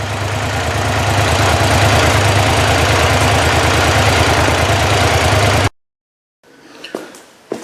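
A 2005 Suzuki SV650 with a Delkevic SL10 14-inch exhaust drones loud and close at steady high revs for several seconds, then cuts off abruptly into silence, followed by faint handling noises.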